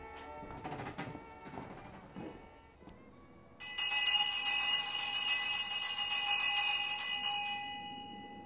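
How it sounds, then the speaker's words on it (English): An electric schoolhouse tardy bell rings loudly and continuously for about four seconds, a harsh metallic clangor that breaks in after some faint background noise. "that is our tardy bell, signaling that we shall begin our day"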